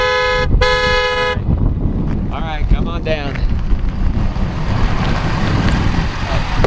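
Vehicles rushing past on a road, with a loud horn toot near the start followed by whooshing traffic noise and wind buffeting while someone talks briefly.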